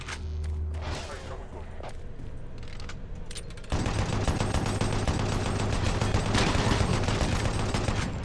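Automated turret guns in the Doom 3 video game open fire with a dense, sustained rattle of rapid shots that jumps louder partway through and keeps going steadily to the end.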